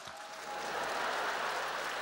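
An audience claps at a 2016 New Year show-concert. The applause swells quickly and holds as a dense, sustained patter of many hands for about two seconds.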